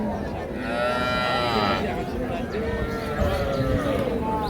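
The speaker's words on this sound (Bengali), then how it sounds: "এখানে এটা গাভী আর সেই সাথে বাচ্চা, শাহিওয়াল ষাঁড় বাচ্চা" A Sahiwal cow with her bull calf at a livestock sale, lowing in long drawn moos under nearby conversation and steady background crowd noise.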